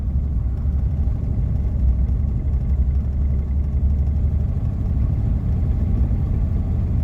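A cheap old Rolls Royce engine runs rough with a steady, loud, low rumble that stays close and continuous, with no clear revving or gear changes.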